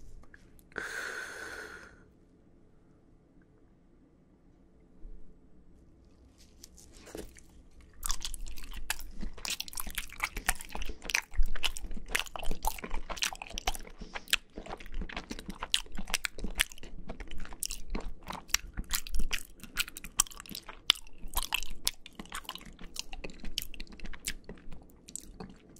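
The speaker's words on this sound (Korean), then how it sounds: "얘는 되게 식감이 다르네요. 되게 탱탱하고 씹는 식감이 되게 잘 느껴지는 그런 느낌입니다." Close-miked mukbang eating of firm, springy food that breaks apart, with repeated crisp bites and wet crunching chews in a steady, dense rhythm for most of the clip, after a brief opening bite and a quiet pause; no talking.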